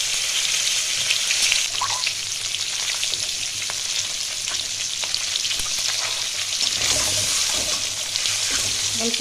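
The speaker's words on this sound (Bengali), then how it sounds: "তেলটা আবার আমার গরম হয়ে গেছে। আমি ডিমগুলো ভেজে নেব।" Duck eggs frying in hot oil for a Bengali curry, a close, bright, continuous sizzle with a few crackles and pops, steady throughout.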